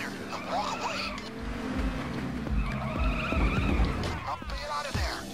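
A car in the video game Payday 2 is driven into a car shop, with tires skidding and engine noise rumbling under scattered game sounds and faint voices.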